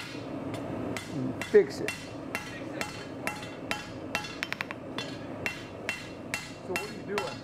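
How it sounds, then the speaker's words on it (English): A hammer strikes a chopper knife blade being forged, in light, evenly spaced ringing taps about every half second with a few sharper blows. Someone speaks briefly in the background. "And just hit that spot. If you hit too hard, you're gonna put a dent in."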